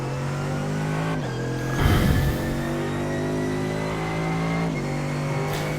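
Mercedes AMG GT3 engine in the iRacing game at the Nurburgring, a loud steady drone that blips and rises sharply during a downshift to second gear, then settles back into a sustained roar.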